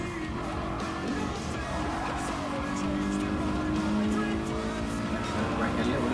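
A racing simulator video game car engine drones steadily throughout with tire noise, continuous and fairly loud, under a voice giving driving instructions.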